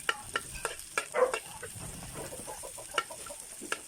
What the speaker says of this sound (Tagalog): Then you first lagyan mo muna ng bawang at saka yung onion.